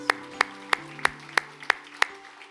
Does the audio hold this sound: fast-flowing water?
no